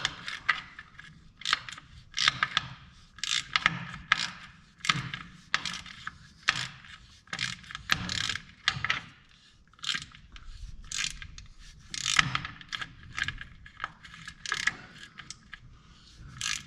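Ratchet wrench tightening the last bolt on a John Deere 7000 planter while fitting Schaffert parts, close repeated clicking bursts in irregular back-and-forth strokes, heard alone.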